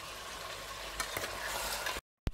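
Chili powder, turmeric and salt being stirred into chicken curry in a pan, with a steady close sizzle and scraping of the spoon against the pan, broken by a short pause and one sharp knock near the end.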